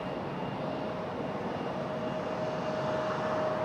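United airliner taxiing at Raleigh-Durham International Airport, a steady distant engine rumble and hum holding at a constant level throughout, no talk.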